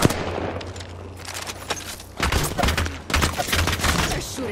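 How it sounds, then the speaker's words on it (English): Bursts of automatic gunfire from enemies shooting at the player in Apex Legends arenas, rapid cracking volleys that stop and start across the span, loud and close with game sounds layered in. "They're shooting at me."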